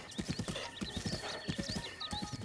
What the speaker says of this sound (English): go ahead and steal this horse for now.